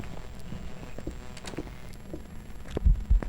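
A ghost's heartbeat in a ghost-hunting video game throbs as low, muffled pulses under a steady hum, growing louder and heavier toward the end.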